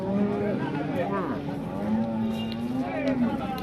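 A Jersey cow at a cattle market moos in long, drawn-out calls close by, with a busy outdoor crowd murmuring in the background.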